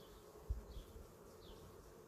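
Honey bees buzz faintly and steadily around a heavy hive frame of uncapped honey cells during a beekeeper's first honey harvest, with a soft low drone and a small thump near the start.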